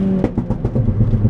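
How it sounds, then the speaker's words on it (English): Ford Fiesta ST tuned to 320 bhp revs hard through a short burst with wheelspin, the engine note pulsing rapidly and rising in quick bursts, heard close from inside the cabin. "I hope you can sort of get a gist of the power of this car and how like it just spins"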